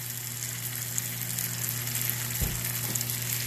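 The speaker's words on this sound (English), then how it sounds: "I'm gonna add a little bit more garlic butter sauce to it." Garlic butter sauce sizzles and fries in a hot pan, a steady close crackle with a brief louder splash and stir partway through, no talking.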